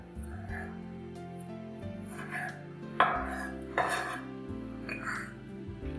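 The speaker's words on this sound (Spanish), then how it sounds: "Los cherries los partiré en 4 trozos." Cherry tomatoes are quartered with a knife on a board, giving a few sharp close knocks and clicks of kitchenware, with sparse quiet sounds between.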